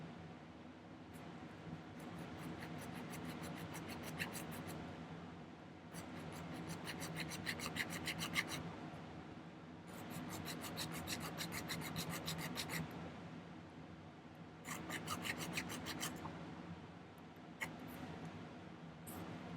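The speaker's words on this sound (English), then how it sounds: "Use my half round jeweler's file." A half round jeweler's file rasps a notch into metal for a cocktail ring, close and quiet, in four bursts of quick back-and-forth strokes separated by short pauses.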